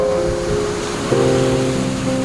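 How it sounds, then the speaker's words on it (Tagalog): Large waves crash against a seawall during Typhoon Kristine in 2024, making a continuous loud roar of surf and wind with steady musical tones layered over it. "ganito kataas ang hampas ng alon"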